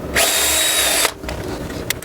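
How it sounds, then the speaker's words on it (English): A power drill fitted with a long bit bores into wood in a loud, close one-second burst, then stops, followed by a few short clicks and knocks. "I don't know why I love using this long drill bit so much"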